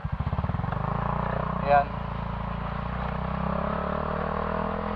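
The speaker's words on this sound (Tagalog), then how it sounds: "Nakamotor tayo." Riding a motorcycle while recording on an Akaso Brave 7 action camera, with a steady, close engine rumble and wind noise throughout, and a voice speaking briefly over it.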